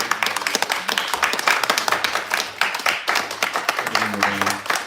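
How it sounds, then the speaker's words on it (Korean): A church congregation claps along for a member being greeted during a worship service, steady rhythmic clapping from many hands filling the room, with some faint voices underneath. "박수."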